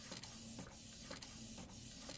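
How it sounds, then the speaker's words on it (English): A home inkjet printer printing a sticker sheet, a close, steady mechanical whir broken by regular clunks of the print head shuttling back and forth roughly every half second. "let's hope that my printer is printing it the correct color"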